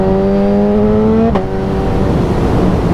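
Powerful motorcycle engine revving steadily upward on a ride from Oban back to Glasgow, then a quick-shifter gear change cuts the pitch abruptly before the rising drone resumes, loud and close over wind noise.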